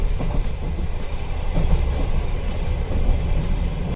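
Train running on the railway line toward Sochi, a steady low rumble with rolling wheel clatter held at a constant level throughout, fairly close and continuous with no voices.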